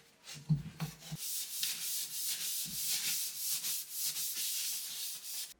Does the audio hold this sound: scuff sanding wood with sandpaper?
yes